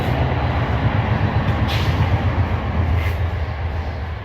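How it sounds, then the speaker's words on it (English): A train rumbles past at close range behind a backyard antenna mast, a loud, steady low roar that holds for the whole stretch, with a couple of faint higher squeals or hisses riding on top. "here goes the train, guys, if you like trains."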